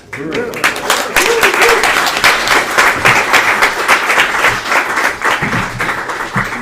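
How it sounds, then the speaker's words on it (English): Sustained applause from a convention audience fills the room, dense steady clapping with crowd noise that rises quickly and holds loud throughout, with some voices mixed in. "Let's give the southern region a round of applause"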